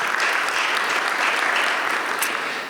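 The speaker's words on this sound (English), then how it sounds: "Give him a round of applause." An audience at a healthcare innovation panel discussion gives a round of applause, loud dense clapping from many hands sustained throughout and easing slightly at the end.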